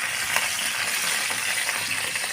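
Chicken pieces for a chicken roast fry in hot oil in a covered pan, giving a loud, steady sizzle with small crackles throughout and no voices.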